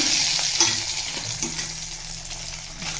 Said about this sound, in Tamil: இதை நல்லா செவக்க வறுத்துக்கலாம்